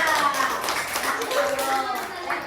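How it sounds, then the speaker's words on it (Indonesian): Grade 6 children clap together in a classroom, a brisk burst of many hands with young voices and a teacher talking over it. "tepuk tangan buat Dada."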